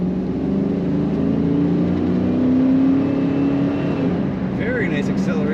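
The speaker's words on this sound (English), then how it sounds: "Very nice acceleration and nice firm shift from the automatic transmission" 1994 Pontiac Trans Am 25th Anniversary with automatic transmission accelerating hard, a loud continuous engine drone rising in pitch, then easing as the gearbox shifts, heard from inside the car.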